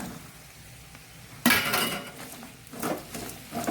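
Okra tossed into a pan already cooking spiced potatoes, landing with a sudden clatter and a brief sizzle, then stirred with a metal spoon in scraping, clinking bursts against the pan.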